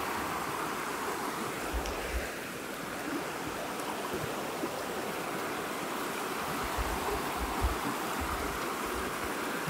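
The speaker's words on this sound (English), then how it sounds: "What a lovely little river." A clear little river running under a bridge near a chapel in the Borderlands, heard as a steady soft wash of flowing water, fairly faint and continuous with low rumbles of breeze and no voices.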